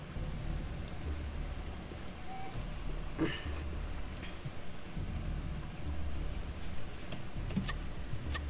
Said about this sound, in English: Everybody get your water while it's freaking raining.